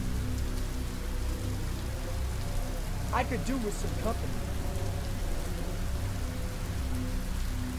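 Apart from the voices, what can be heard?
pouring rain in a horror video game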